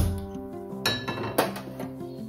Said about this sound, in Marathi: इथे मी पॅन गरम करत ठेवलेला आहे